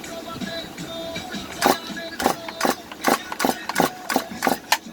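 A Stihl MS 201TC chainsaw engine runs at a low idle, then is blipped repeatedly in short throttle bursts that rise and fall in a rough rhythm, close and loud.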